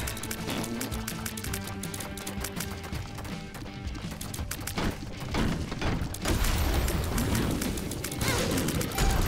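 Exploding tears in The Binding of Isaac: Repentance, during a Greed run, make a rapid, dense burst of crackling, popping blasts layered over game music, growing louder and busier toward the end, with no voices.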